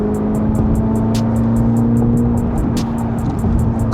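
A 1064-horsepower Corvette C8 ZR1 on a downtown Chicago street holds a loud, steady exhaust drone from inside the car, a sustained engine tone without clear rev peaks, with no talking.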